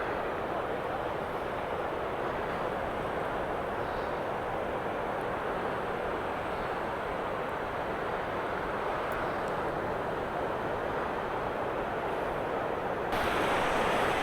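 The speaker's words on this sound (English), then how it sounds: "this machine here, the wave garden, this obviously pumps out" Constant broadband roar of Europe's largest wave pool at Ratho, Edinburgh, as the Wavegarden machine pumps out waves, a steady loud rushing wash that slightly intensifies near the end.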